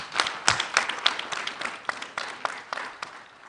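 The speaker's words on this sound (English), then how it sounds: "I think we should also clap for them." Scattered applause from a small group at a bank's annual general meeting, uneven claps heard somewhat distant and fairly soft, lasting a few seconds without talking.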